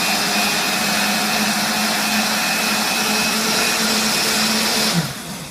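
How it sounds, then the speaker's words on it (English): Bartek commercial blender whirring at full speed while making a green smoothie, a loud, dense, steady roar that cuts off abruptly near the end. "it's about to get really noisy for a moment, but because it's a Bartek commercial blender"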